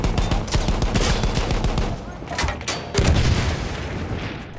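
Rapid bursts of gunfire and booming explosions in the Battlefield 1 video game, dense and continuous with a louder surge near the end, no one talking.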